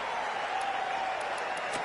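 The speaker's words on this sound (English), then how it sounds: "already the crowd is up and about" Cricket crowd at the start of an Afghanistan versus Australia match, a broad steady wash of cheering and applause that stays loud and even throughout with no single voice standing out.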